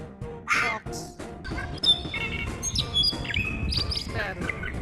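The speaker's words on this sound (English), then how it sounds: "Sparrow" Sparrow chirps come in quick, bright bursts scattered throughout, with other bird calls and a busy, noisy background mixed in.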